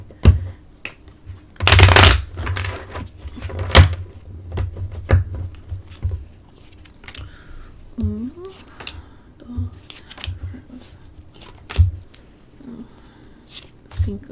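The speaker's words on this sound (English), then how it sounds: "I shuffled this off camera, but I'm doing it once or twice on camera" A deck of oracle cards is shuffled up close, with a loud riffle burst followed by softer taps and shuffles, and a voice speaking briefly between them.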